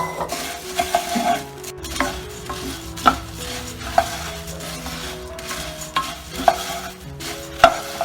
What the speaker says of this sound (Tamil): பேன்ல போட்டு ட்ரை ரோஸ்ட் பண்ணிக்கலாம் கொஞ்ச நேரம்.